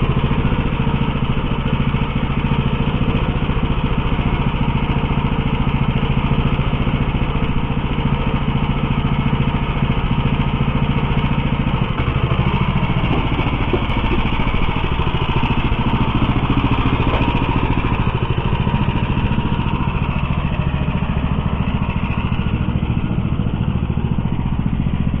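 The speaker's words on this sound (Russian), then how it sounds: "первый пробный выезд с новым двигателем" A motorbike with a Lifan F-168 engine runs steadily and loud throughout, its rough, clattering drone rising and falling as the bike is ridden, with no talking.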